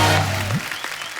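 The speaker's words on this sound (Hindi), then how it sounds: "जोरदार तालियां हो जाए ध्वनि के लिए" Applause from a studio audience on a Hindi comedy talk show, a dense wash of clapping that starts loud and gradually fades, with a brief voice at the start.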